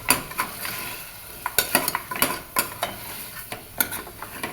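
Onion stir-frying in oil while a spatula scrapes and taps the pan in irregular clicks over a low sizzle, with no voices.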